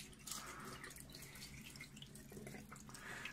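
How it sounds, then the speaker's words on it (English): Lukewarm tap water running steadily over a 12-inch SkyWatcher 300P Flextube Dobsonian telescope mirror during rinsing, a continuous close splashing flow with light dripping and no talk. "now I just use the water, tap water, lukewarm tap water, to"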